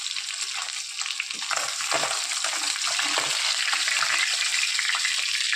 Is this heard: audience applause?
no